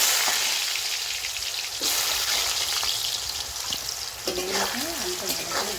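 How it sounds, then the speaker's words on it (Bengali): Potatoes frying in hot oil in a home kitchen for a chana curry: a continuous crackling sizzle with scattered pops throughout, and a voice speaking briefly over it near the end. "তেলের মধ্যে আমি আলুটা ভেজে নেব।"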